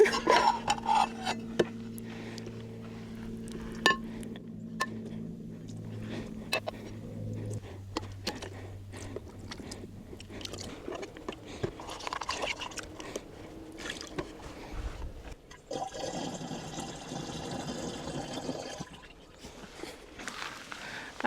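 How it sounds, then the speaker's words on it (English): Dishes and cutlery are washed with water at an outdoor car camping table, with repeated clinks and clatters of metal and plates, quiet sloshing and dripping, and a denser burst of running water near the end, with no talking. "we did the dishes without spilling any water"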